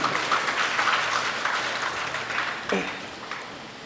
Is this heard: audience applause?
yes